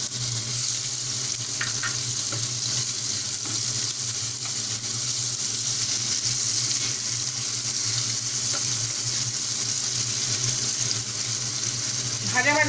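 Whole dried chili, bay leaf and crushed garam masala frying in hot oil for an egg malai curry, a steady broadband sizzle holding evenly throughout with a few faint clinks, no talking.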